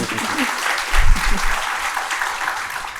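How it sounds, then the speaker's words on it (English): A conference audience in Houston applauds a panel, a dense, continuous wash of many hands clapping together that stays steady and fairly loud throughout. "Let's give our panelists a round of applause, please."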